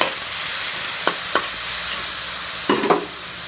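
Eggplant with dried fish sizzling in a hot pan, a steady broad hiss with a few faint taps of stirring, close and continuous with no talk.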